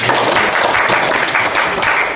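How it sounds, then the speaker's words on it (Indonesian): An audience at a school meeting in a senior high school gives continuous, close, fairly loud applause throughout, a dense even wash of hand claps. "Kita tepuk tangan untuk Bapak"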